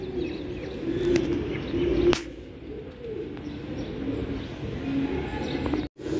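Fancy pigeons coo at a pigeon farm in India, with low, rolling coos repeating close by over a steady murmur of birds, a brief flutter or knock in the middle, and a short dropout near the end.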